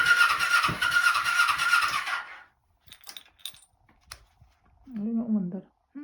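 A car engine cranks and starts in a loud, rough burst lasting about two seconds, then cuts out; scattered clicks and short spoken voices follow nearby.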